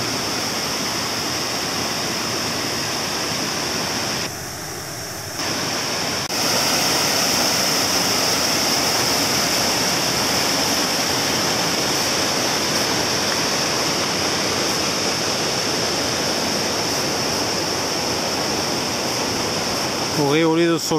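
A mountain torrent in the Cévennes rushes loudly and steadily nearby, a dense, continuous roar of white water that dips briefly early on before returning at full strength.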